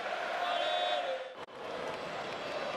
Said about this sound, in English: 9-3 they lead, and the Puma supporters in the crowd celebrate.